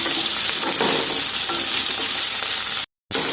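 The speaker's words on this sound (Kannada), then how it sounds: "ಸ್ವಲ್ಪ ಉಪ್ಪು ಸೇರಿಸ್ಕೊಳ್ಳೋಣ ಸೇರಿಸ್ಕೊಂಡು ಈ ಥರ ಚೆನ್ನಾಗಿ ಫ್ರೈ ಮಾಡ್ಕೊಳ್ಳೋಣ" Onions sizzle steadily in a hot pan for sambar, a loud, close, continuous crackle of frying with a few stirring scrapes and a brief cut near the end, with no talking.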